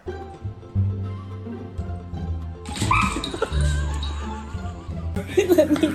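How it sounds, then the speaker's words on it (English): A dog startled by a cat gives short whimpers, yips and a bark, close and loud, amid rustling movement and household noise, with a brief musical sting near the end. "This dog gets startled by this cat."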